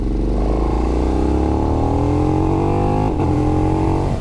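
A KTM 1290 Super Duke R motorcycle accelerates hard in third gear from about 25 mph and 2,200 rpm. The loud, close engine note rises steadily over four seconds, with a brief dip near the end and no speech.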